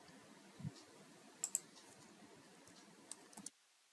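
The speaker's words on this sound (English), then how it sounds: "Now you can log in by typing in your username." A username typed on a computer keyboard for an online banking login: a few soft, scattered key clicks close by over a quiet background, stopping abruptly.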